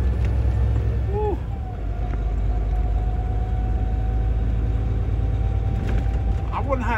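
Truck driving along a narrow residential road, a loud continuous low engine rumble heard from the cab, with a few brief tonal squeaks and a long faint whistle over it.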